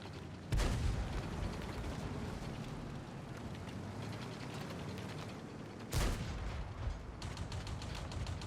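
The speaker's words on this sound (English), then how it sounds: "The tracks also make different sounds on different surfaces, as we can hear here on cobblestone." World of Tanks tank tracks rumble and clatter continuously over cobblestone, broken by two loud cannon booms, one early and one later.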